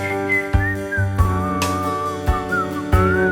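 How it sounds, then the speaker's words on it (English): A man whistles a cheerful, bouncy tune over a steady musical backing, the melody sliding between notes in short phrases, loud and close with no talking. "Yes, he whistles a happy tune."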